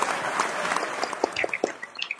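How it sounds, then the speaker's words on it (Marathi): An audience claps for Dr. Gokhale, a dense patter of hand claps that stays fairly even before thinning into scattered claps toward the end. "So Dr. Gokhale साठी जोरदार टाळ्या"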